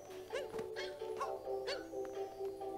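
A cartoonish dog from Super Mario Odyssey gives several short barks and yips at a steady pace, set against constant game background music.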